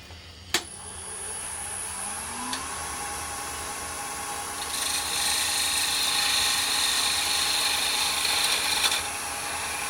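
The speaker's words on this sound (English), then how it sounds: "which I will do with this parting tool right here" Parting tool cutting into a spinning wooden egg on a lathe, a sharp knock at the start, then a steady high whine and scraping hiss that grows louder midway and holds, close and alone.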